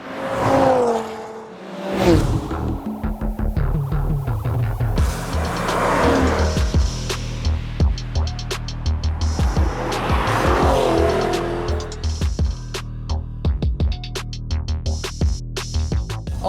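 A Chevrolet C8 Corvette, the mid-engine model, drives hard with its engine roaring loudly up close while the tyres squeal and skid repeatedly, without any talk.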